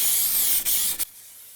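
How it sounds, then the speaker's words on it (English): Spray can applying colour-matched base coat paint to a car, a steady close hiss with two brief dips as the nozzle releases, then cutting off to near silence for the last half second. "spray it on slowly and evenly"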